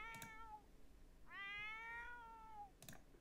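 A cat meows in The Sims, with two drawn-out meows close and clear, a short one followed by a longer rising call, separated by brief sharper sounds.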